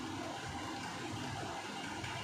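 Water being poured into a pan of vegetables for Kerala-style avial, a continuous rushing splash that fills the short span at a steady, fairly loud level.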